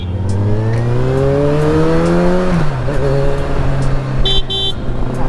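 A Suzuki Hayabusa superbike revs and pulls away on a street in Bharuch, its engine note rising in pitch, then easing as it moves off, with brief car horn toots near the end.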